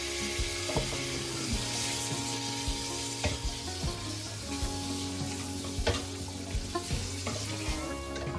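Potatoes fry with spices in a hot pan, a steady close sizzle with occasional stirring scrapes throughout.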